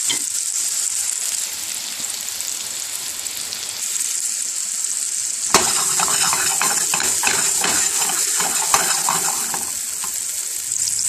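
A Jennie O turkey burger patty fries in a pan with a continuous bright sizzle, which gets louder and crackles more after a sudden jump midway, with a few small utensil knocks.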